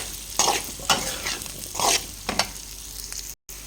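Drumsticks frying with salt, chili and coriander powder, stirred in a pan: several distinct scraping stir strokes over a continuous close sizzle, ending in a brief cutout.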